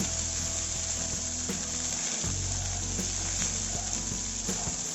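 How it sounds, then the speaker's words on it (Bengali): Mustard paste with half a spoon of salt sautés for shorshe ilish, giving a loud, continuous close-up sizzle broken by occasional stirring scrapes. "এবার এটা সুন্দরভাবে আমি একটু কষিয়ে নেব।"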